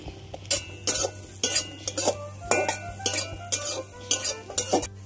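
Diced capsicum fries in a pan with browned chopped onion for a chicken stew, a spoon scraping and clinking against the metal in quick repeated strokes over a low steady sizzle, close and fairly loud.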